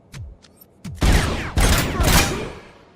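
A dynamite blast goes off in a video game, preceded by a few sharp pops, then bursting into a loud, roaring double explosion that rumbles and fades over a couple of seconds.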